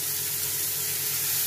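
Onions and green chillies sauté in a pan with a steady, close, loud sizzling hiss that runs unbroken for under two seconds.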